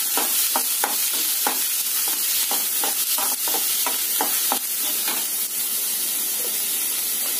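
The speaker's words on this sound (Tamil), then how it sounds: "வெங்காயம் நல்லா வதங்கணும்." Onions fry in about two spoons of oil with curry masala and fennel for Madurai kari dosai, giving a loud, steady sizzle. A spoon scrapes the pan in regular stirring strokes, and no one speaks.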